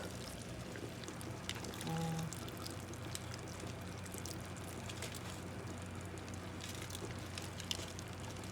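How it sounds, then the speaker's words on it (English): Coconut milk pours into a pot of cooking carrot rice, a soft steady liquid wash running continuously under a low kitchen hum, moderately quiet throughout. "I'm going in with my coconut milk."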